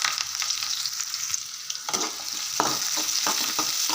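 Onions, curry leaves, cumin and mustard seeds stir-fried in hot oil crackle with a steady broadband hiss, with sharp spoon scrapes and pops standing out in the second half, close and alone.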